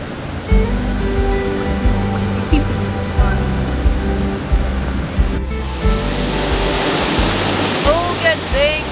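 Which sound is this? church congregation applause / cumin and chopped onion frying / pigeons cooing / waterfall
waterfall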